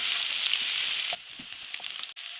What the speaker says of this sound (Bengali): পেঁয়াজটা লাল করে দেবো।